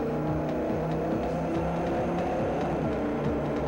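Racing car engines from a late-1990s console driving game hold a steady, dense roar with layered overlapping engine tones, loud and continuous throughout.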